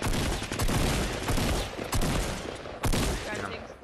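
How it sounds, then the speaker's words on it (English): Shotgun blasts from a squad battle-royale video game, several loud booming shots spread over a few seconds amid dense, busy game audio, with voices chatting intermittently over the action. "Oh, I got a purple shotgun."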